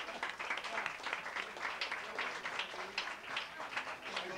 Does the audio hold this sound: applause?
yes